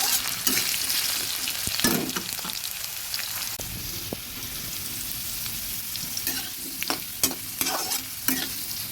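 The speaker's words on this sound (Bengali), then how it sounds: "ভালো করে আলুটা ভেজে নিচ্ছি" Potatoes fry in a pan with a steady broadband sizzle, while a spoon stirs them with repeated scraping strokes and sharp clinks against the metal. The sounds are close and there is no talking.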